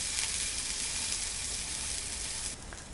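Uttapam with small onions frying in oil on a hot pan just after being flipped gives a steady, close sizzling hiss that runs unbroken, then softens slightly near the end.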